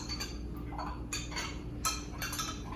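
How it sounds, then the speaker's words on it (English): A utensil stirs homemade blue paint in a container, making a few quick, bright clinks and scrapes in short repeated bursts over a steady low background hum. "I'm gonna stir it"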